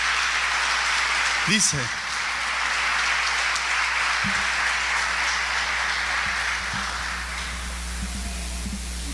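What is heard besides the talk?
congregation applause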